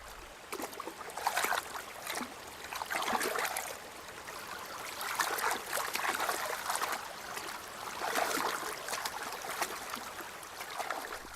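The Sungari river flows down from high mountains, a steady broadband rush of running water with bubbling, trickling surges that swell and ease throughout, close and continuous with no voices.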